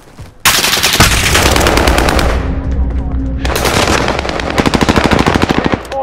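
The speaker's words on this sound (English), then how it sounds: "Under hostile fire." Rapid machine-gun bursts and gunshots in Call of Duty: Modern Warfare, loud and close, with dense automatic fire running nearly continuously and a sharper rattling burst toward the end.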